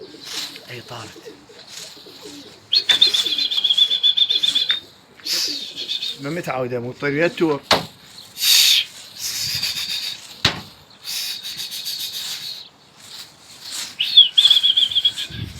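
A white Basrawi pigeon takes off with bursts of flapping wings that sound like rapid feathery whooshes and claps, close and fairly loud, between stretches of someone talking nearby.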